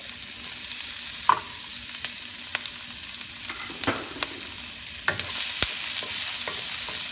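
Onions sauté in a pan for pesang isda, a steady low sizzle broken by sharp scrapes and clinks of a utensil stirring against the pan.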